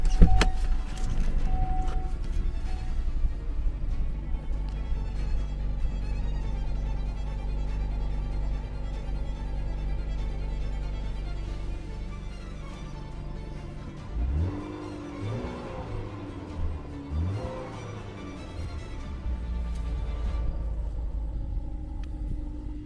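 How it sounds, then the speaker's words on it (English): A Cadillac CTS engine idles roughly and unevenly with a misfire, stumbling, irregular rumbles and a brief uneven revving partway through, heard up close without voices. "There's the misfire."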